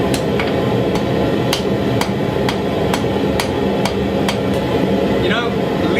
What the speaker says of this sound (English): by taking wood block, striking down with a ball peen